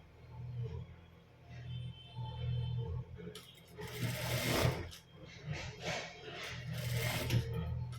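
A sewing machine stitches fabric for a puff sleeve, its motor whirring in steady bursts that start and stop, close and fairly loud, with brief rustling of cloth between runs.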